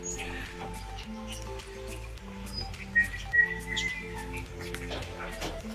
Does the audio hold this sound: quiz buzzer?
no